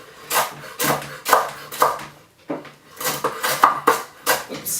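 Knife chopping extra thick cut bacon on a cutting board, with a series of crisp, close thuds and scrapes in an irregular rhythm and short pauses between bursts.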